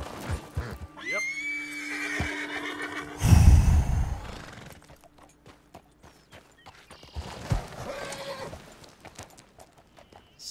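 A horse in Red Dead Redemption 2 whinnies loudly with a long, shrill neigh, followed by a heavy snort and softer clip-clop hoofbeats, with a few scattered rustles and thuds.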